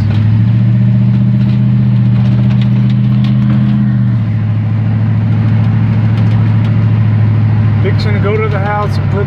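A 1982 Chevy C10 pickup truck's engine rumbles steadily and close by while driving, a low rough drone with a loose rattling edge throughout.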